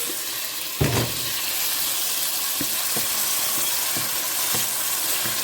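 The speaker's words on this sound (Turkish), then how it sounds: "2 yemek kaşığı sıvı yağımızla birlikte üzerine domateslerimizi ilave ediyoruz" Tomatoes hit hot oil with garlic and onions in a pot, starting with a bump and a burst of sizzle, then a steady close frying hiss with a few soft clicks.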